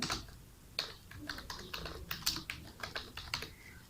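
Typing on a computer keyboard while entering model text in Revit Architecture, with clustered, uneven key clicks close up and no voice.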